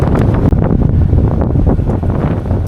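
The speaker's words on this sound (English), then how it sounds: "it's nasty and windy" Loud, strong wind roars and buffets a microphone without letup on a sailboat off Turkey's west coast, a dense rumbling gust noise filling the whole stretch.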